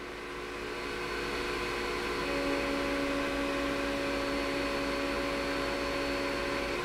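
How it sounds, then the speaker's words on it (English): A 20W Gluwphy all-in-one laser engraver cuts 1/8 inch plywood, giving a steady, loud mechanical whir like a fan or extraction blower, with a tonal hum joining partway through and no talking. "Cutting through this 1/8 inch plywood is actually pretty quick for this machine."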